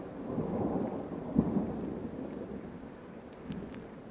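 Thunder from an electric thunderstorm developing south of Carpentras, a low distant rumble rolling for a few seconds with a brief louder crack, under rain and gusty wind noise on the microphone.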